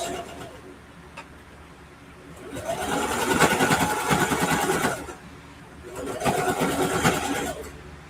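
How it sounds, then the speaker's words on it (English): A home sewing machine back stitches fabric, running in two loud, close bursts of rapid mechanical whirring with a quieter pause between them. "I'm going to back stitch"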